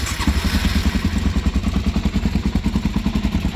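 An old, cheap Japanese motorcycle engine running, a close, loud, rapid throbbing beat with a clattery mechanical edge, steady throughout with no speech.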